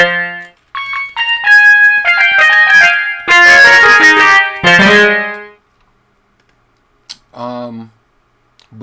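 Bright, harmonic realistic piano keys sample notes ring out in a busy run in a drill beat, with sustained chords and a few separate plucked tones after a short pause.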